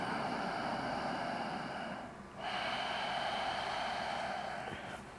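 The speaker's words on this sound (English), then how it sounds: "creating a slight contraction at the back of the throat" Slow, audible Ujjayi pranayama breathing through a slight contraction at the back of the throat, a steady hushed rasp with a brief pause midway before the next long breath, close and alone.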